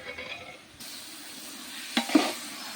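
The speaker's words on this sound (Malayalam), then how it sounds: "കുറച്ച് ഉപ്പ് ഇട്ട് കൊടുത്തിട്ട് ഇളക്കിയെടുക്കാം" In a pan, chicken with salt and turmeric powder is stirred, a soft sizzle that swells after a short pause, with a couple of utensil clinks near the end.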